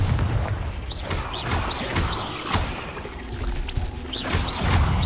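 Fantasy wand-duel blast for the Confringo spell, a booming explosive burst with whooshing sweeps, repeated in a busy, loud battle mix of thuds and crashes with no clear pause between hits.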